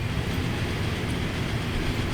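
Passenger train in the Transport Fever 2 game rolling along with a steady, continuous low rumble and rail noise, moderately loud and unbroken, no voices over it.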